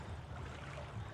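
Wading through chest-deep water in the horror game Outlast: a steady, muffled low sloshing and churning of water, close and continuous, with no voices.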